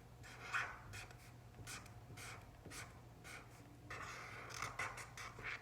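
A Sharpie marker writes the word spring inside a drawn puffy cloud on a rainbow paper craft, with soft, close scratchy strokes in short bursts and pauses, then a denser run of strokes near the end. The sounds are faint and no one speaks.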